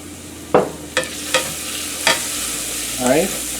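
Onions sautéing in oil in a pan, an even sizzle punctuated by a handful of sharp spatula clacks and a final scraping stir, close and clear with no voices.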